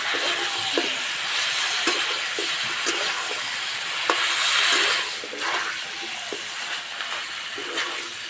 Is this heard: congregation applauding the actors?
no